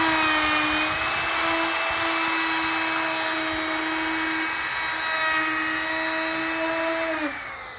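Router with a carbide 3/16-inch round-over bit cutting the edge of a 1x6 board, a steady, loud high-pitched whine under load that holds evenly for several seconds, then dips in pitch as the cut ends.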